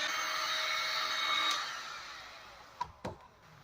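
A heat gun blows hot air onto jetski decals to loosen them, a steady whooshing hum that fades after about a second and a half, followed by two brief sharp clicks.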